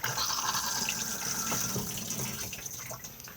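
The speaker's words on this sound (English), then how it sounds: "push to flush just on top" An Auto-Sleeper 2021 Warwick XL motorhome's cassette toilet flushes, a steady rush of water running throughout, close and fairly loud with no voices.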